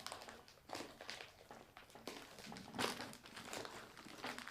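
Plastic packaging wrap being ripped and crinkled off a Cricut Maker cutting machine box, with repeated rustling tears and crinkles in uneven bursts, close and soft, with no talking.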